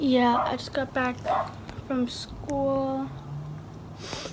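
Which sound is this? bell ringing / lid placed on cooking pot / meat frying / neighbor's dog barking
neighbor's dog barking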